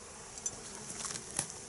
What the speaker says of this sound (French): il y a même énormément d'abeilles. Ce sont toutes les butineuses qui ont quitté la hausse